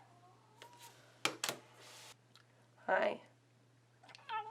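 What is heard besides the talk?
cat meowing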